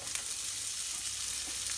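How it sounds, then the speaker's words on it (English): Onion fries in a pan with already browned spices for a kidney bean rajma curry, a brief close, even hiss of sizzling oil, with no voices. "That should sizzle."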